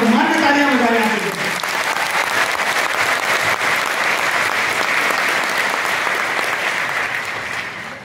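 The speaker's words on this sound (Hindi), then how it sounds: "उनके सम्मान में तालियां बजाएं आप।" Loud, dense audience applause fills a hall in honour of APJ Abdul Kalam, sustained throughout and tapering slightly at the end, with a speaking voice briefly overlapping at the start.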